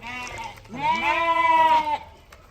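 A single sheep lets out a loud, wavering bleat close by, preceded by a shorter call, over quiet background noise.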